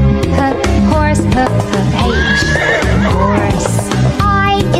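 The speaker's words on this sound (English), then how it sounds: "H is for horse" A horse neighs loudly and shrilly, a drawn-out whinny over music, with a faint clip-clop of hooves.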